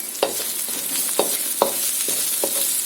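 Onion frying with ginger and garlic over a high flame, a steady bright sizzle with several sharp spatula scrapes and stirs against the pan at irregular intervals.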